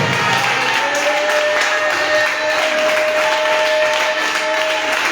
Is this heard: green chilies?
no